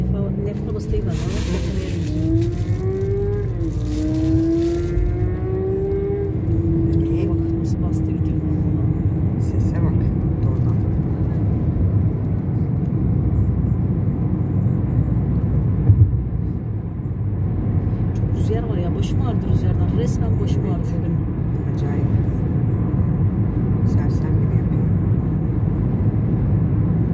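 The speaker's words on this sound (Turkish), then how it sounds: "Akşam trafiği arkadaşlar. Maalesef. Yol yoğun." Evening road traffic on a busy holiday road, with cars passing steadily as a continuous near rumble, a heavier vehicle drone sweeping by early, and voices talking over it.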